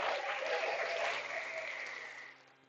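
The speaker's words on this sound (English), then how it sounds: "I think that deserves a round of applause" A burst of applause from a modest crowd, clapping strongly at first and then fading away over a few seconds.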